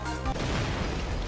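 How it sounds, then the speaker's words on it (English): Crash effect from Phoenix Wright: Justice for All: a sharp, loud impact hits almost at once and gives way to a short, noisy rumbling tail. "Something crashed."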